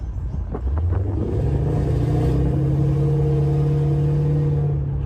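A Lexus LS430 with a Flowmaster exhaust and straight pipes to the mufflers idles and revs close by, a steady deep rumble rising after a brief blip, nobody talking.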